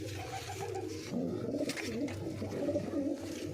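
Domestic Punjab show pigeons coo repeatedly in low, throaty rolling calls, close and steady through the whole stretch with no talking.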